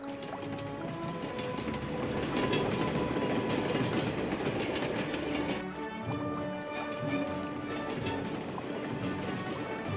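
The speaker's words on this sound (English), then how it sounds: "This train is bound for Ferret Wonderland." A model train runs steadily along a railway diorama with a tunnel, its wheels clicking and clattering close by at a constant loud level for the whole stretch, with no one talking.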